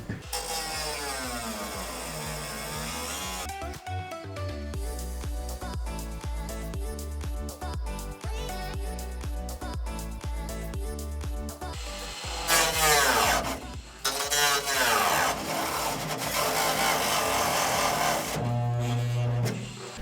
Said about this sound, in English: And then we can grind it down with a grinder.